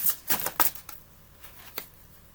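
Tarot cards being shuffled and drawn, a few quick riffling flutters close by followed by a lone card snap, with no talking.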